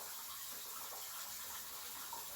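Steady broadband rush of running water in the background, constant and fairly faint, continuing without a break; no voices.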